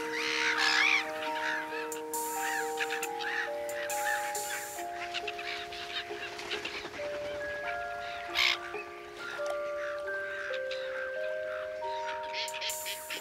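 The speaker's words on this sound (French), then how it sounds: "Voisines des guiffettes, les mouettes ont installé leur nid sur des touffes de carex" Gulls nesting on sedge tussocks at a pond call repeatedly, a chorus of harsh cawing cries near and far overlapping throughout, with water birds in the background.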